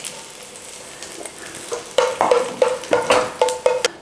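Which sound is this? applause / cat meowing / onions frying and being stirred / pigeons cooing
onions frying and being stirred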